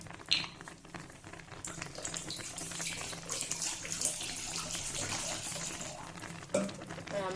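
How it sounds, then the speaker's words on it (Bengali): Water pours into a cooking pot while vermicelli dessert is being made, a continuous splashing, rushing flow heard close by for several seconds, with a faint clink near the end. "হাঁড়িটার মধ্যে দিয়ে জল দিয়ে দিলাম।"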